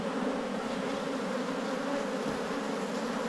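Agitated honey bees swarm and buzz loudly over an opened hive in an Australian apiary, a dense, steady drone close by with no pauses and no voices.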